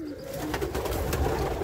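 Soft, low pigeon cooing over a steady background hum, with faint rustling, at a pigeon market in Malbork.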